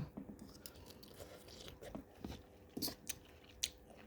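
Someone close by chews and crunches sour green mango salad dressed with sugar, chili powder and fish sauce, making quiet, irregular bites and wet crunches with no talk.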